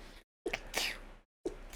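A single sneeze during a podcast conversation, a quick sharp burst, close and fairly quiet, set between brief moments of silence.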